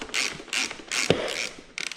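A ratchet turns a subframe bolt on a 2018 KTM 250 EXC-F dirt bike, giving several close, bright bursts of clicking with a sharper metallic knock partway through and a quick run of clicks at the end.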